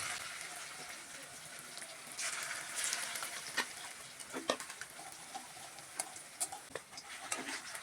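Small gondho leaf batter fritters frying in hot oil in a wok give a continuous close crackling sizzle with scattered pops and a swell as more batter drops in, while a voice talks faintly at times.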